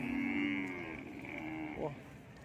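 A young cow at a cattle market lets out a long, drawn mooing call that rises and trails off, heard close over a busy background murmur.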